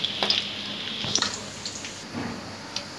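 Chopped garlic frying in a pan while chicken sizzling is prepared, a soft steady sizzle with a few sharp crackles and clinks, close and alone.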